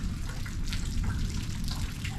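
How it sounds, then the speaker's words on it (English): Evening rain pouring steadily outdoors, a dense even hiss of falling water with no pauses and no voices, close and moderately loud. "It started raining"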